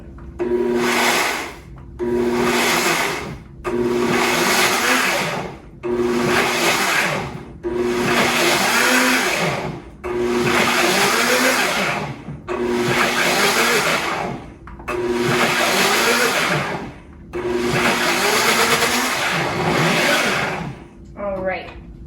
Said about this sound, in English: Hopefully everything won't explode everywhere when I blend it. And then we're gonna blend it.